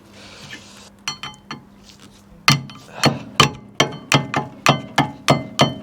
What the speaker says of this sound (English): Trying to get this off. That's why I've got this crowbar.